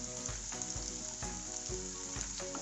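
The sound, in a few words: curry leaves and green chillies frying in a pan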